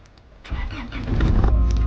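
A freight van's engine, recently overhauled, cranks briefly and catches at once, settling into a close, steady idle that builds in loudness.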